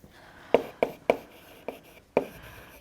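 Chalk or marker writing on a board during a mathematics lecture: five sharp, separate strokes and taps at an uneven pace, close and clear, with no talking.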